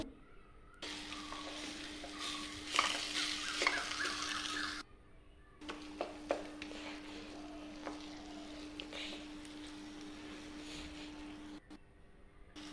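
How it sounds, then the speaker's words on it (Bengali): Boiled potato being stirred into a frying samosa filling in a pan gives a quiet, steady sizzle with scattered scraping and stirring noises, close by, with a brief pause partway through. "আলুটাকে দেওয়ার পর এটাকে ভালোভাবে মিক্স করে নেব।"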